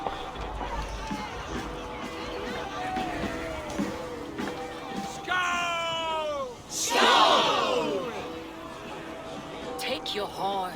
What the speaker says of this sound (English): Take your horn. Join the battle cheer.